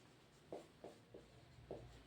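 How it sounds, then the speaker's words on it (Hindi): Pen writing by hand on paper, five short scratchy strokes spaced at a steady rhythm, close and quiet, alone with no talk. "तो इसको हम लिख के आपको समझाते हैं कैसे लिखा जाता है"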